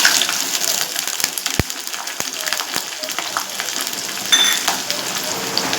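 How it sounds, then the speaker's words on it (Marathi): Onion, bay leaf, cinnamon and cloves sizzle in butter over a medium gas flame, a soft steady crackle with occasional stirring clinks and scrapes, heard close with no talking. "परतून घेऊया मिडियम गॅसवर परतायचं"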